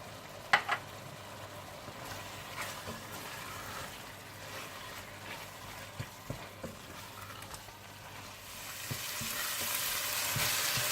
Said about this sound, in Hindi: जीरा पाउडर, हल्दी, सुर्ख मिर्च पाउडर और नमक डालकर अच्छी तरह से भून लें